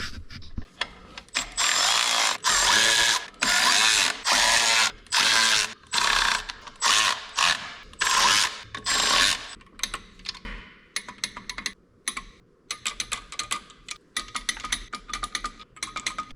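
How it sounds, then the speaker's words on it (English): A hand ratchet runs down bolts on Datsun 510 brake lines in close, loud bursts of rapid clicking, separated by brief pauses and then trailing into lighter, scattered clicks. "I'm going to run all these down, run them down with the ratchet, and then come back in and torque them"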